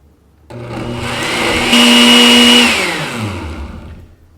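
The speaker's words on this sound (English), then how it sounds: "So let's go ahead and blend this up." A blender whirs loudly and steadily as it purées a red onion marinade for grilled skirt steak carne asada, the motor spinning up, holding a high whine and then winding down, with no talking.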